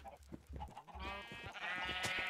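Sheep bleating in Minecraft survival mode, several short wavering bleats from nearby farm animals, fairly faint, with a longer bleat toward the end.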